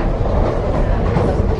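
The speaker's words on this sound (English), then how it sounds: "Okay, now we're on a train." A passenger train rolls along its rails near Paris, a loud continuous low rumble with faint rhythmic clatter, heard from inside the carriage.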